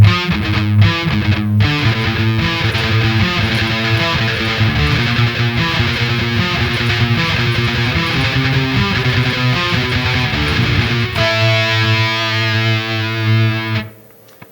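A heavily distorted electric guitar plays a riff slowly, with sustained chugging low notes and shifting chord figures running continuously before cutting off at the end.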